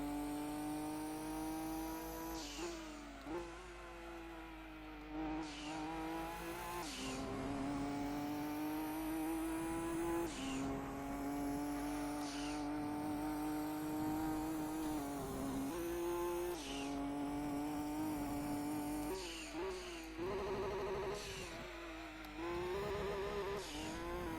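Race car engine droning loudly at high revs with gear-change dips and brief tyre noise, lapping Laguna Seca in Gran Turismo 2 while overlapping a Supra, steady and continuous with no talk.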